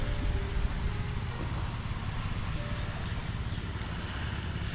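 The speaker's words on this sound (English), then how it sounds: "As a fisherman moves across the water to the next location." A fisherman's boat crossing open sea off a beach in Hua Hin, Thailand, heard as a steady broadband wash of waves and wind noise, continuous and fairly loud with no talk.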